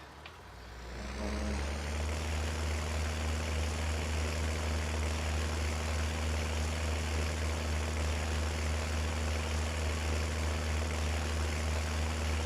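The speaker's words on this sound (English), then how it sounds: "isn't that engine noise lovely?" A farm vehicle engine in a farming video game spins up within the first two seconds, then holds a loud, steady droning hum with a constant high whine on top, without voices.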